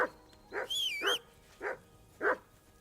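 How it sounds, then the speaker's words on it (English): Dog barking in the video game Kingdom Come: Deliverance II, four separate loud barks at uneven intervals, with a brief whistle between the first two. "Whistle at that mutt of yours to stop barking."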